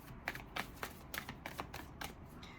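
Tarot cards shuffled by hand at a reading, a quick run of crisp riffling snaps about every quarter second, soft and close with no voice.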